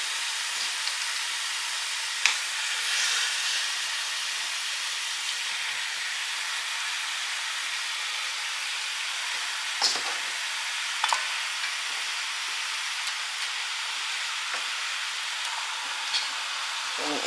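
Haitian turkey wings browning and rendering in their own juices in a medium pot, a steady bright sizzle running throughout with a few sharp pops and spoon clinks, close and alone without talk.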